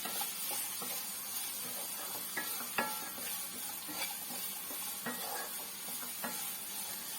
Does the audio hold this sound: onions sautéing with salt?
yes